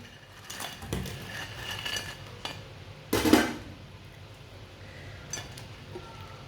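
Fried guava and potato pakoras transferred onto a plate, with scattered light clinks and scrapes of a utensil against dishware and one louder clatter in the middle, close by and without talk.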